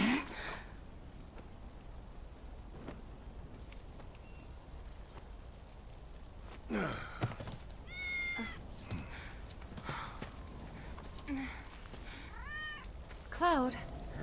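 Several distinct cat meows from a cat in the video game Final Fantasy VII Remake, rising and falling calls spaced across a quiet ambient bed, with a few soft thuds and rustles between them.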